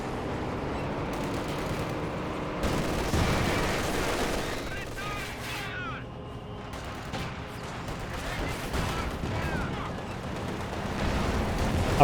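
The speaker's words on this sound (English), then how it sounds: "Maxim firing away, suppressing down some of these Panzer Grenadiers" Maxim machine gun firing in Company of Heroes 2 against Panzer Grenadiers, a dense continuous clatter of automatic fire mixed with other battle gunfire and blasts, steady and loud throughout with a voice talking over it.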